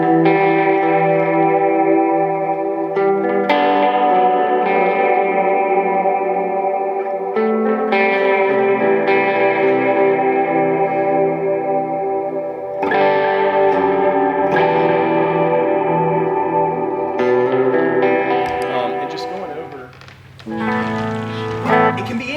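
Electric guitar through a clean amp with pedal effects adding chorus and echo, ringing chords and arpeggiated notes with long sustain, steady and alone, with a few quieter gaps between phrases.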